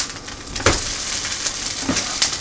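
A sauerkraut and pork grilled cheese sandwich sizzles steadily in a hot pan, a dense broadband crackle with a few sharper pops and spatula touches, close and fairly loud, with no voices.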